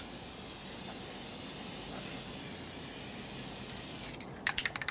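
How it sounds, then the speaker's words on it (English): Fresh spray paint can hissing a steady, fairly soft spray in a workshop during a 1972 Harley Sportster ironhead engine rebuild, ending with a few short sharp bursts. "Now the fresh can, you always want to spray a little bit on something else first."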